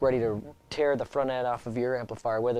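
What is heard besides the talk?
No everyday noises stand out.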